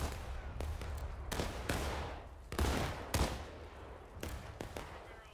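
Musket volleys in the Civil War battle game War of Rights, with repeated ragged bursts of gunfire cracking at varying distances, some close and loud, others further off, over a constant battlefield rumble.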